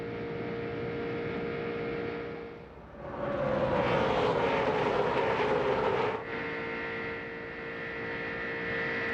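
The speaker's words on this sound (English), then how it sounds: "Listen to his engine." NASCAR Cup race car engine at Daytona International Speedway in 2001, a steady high engine drone that swells into a loud roaring pass around the middle and then settles back to a constant hum.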